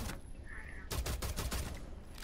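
Suppressed pistol shots ring out in rapid succession during a Rainbow Six Siege match, about six muffled cracks in quick rhythm following a short quieter stretch.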